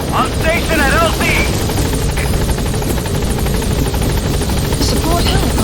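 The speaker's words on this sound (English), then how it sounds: "Support helicopter has arrived." Support helicopter in the video game Metal Gear Solid V arriving at a landing zone, a loud continuous rotor and engine drone filling the whole clip, with game radio voices and interface blips over it.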